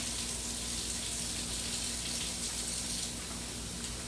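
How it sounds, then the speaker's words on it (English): Tap water runs steadily into a kitchen sink while hands are washed, a continuous close splashing rush with no talking. "now let me wash my hands here"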